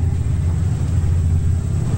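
A Joseph Reid Type A gas engine runs steadily, a loud, close, low rumbling throb with an even mechanical pulse and no voices.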